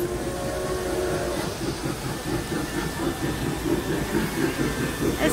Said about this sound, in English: Oh, the train is coming.